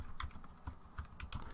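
Keystrokes tap out a short burst on a computer keyboard while a sudo command is entered on a Linux desktop: several crisp, close clicks in an uneven rhythm, with no voice over them.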